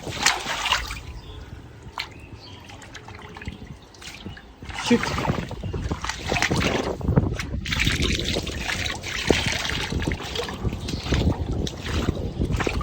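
Water trapped by a clog of rubbish rushes and gurgles away down a drain at home, a loud continuous turbulent wash with trickling and dripping, while a voice briefly swears over it.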